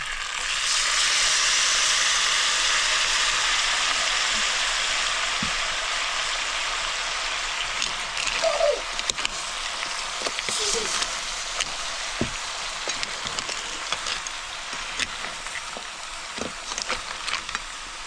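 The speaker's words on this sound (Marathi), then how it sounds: "आता वाटण टाकून घेऊया जे आपण खोबऱ्याचं आणि कांद्याचं तेल होतं ते" A ground masala paste of coconut and onion hits hot oil with crab in a pot over a traditional wood-fired stove, sizzling loudly at first and then settling to a softer fry with occasional stirring clicks.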